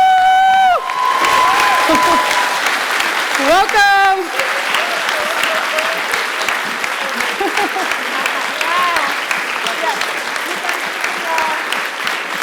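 A large audience applauds and cheers for Justin Trudeau and Mark Rutte at a live conversation event, loud continuous clapping with whoops and shouts, and a voice speaks briefly over it at the start.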